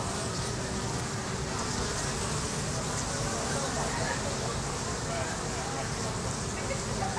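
Honeybees crowd a hive entrance, their dense, continuous buzzing holding steady throughout, with faint voices in the background.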